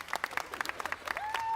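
Studio audience on a Spanish-language TV variety show claps and cheers in a brief, lively burst of scattered handclaps, with a sustained whistle or tone rising near the end.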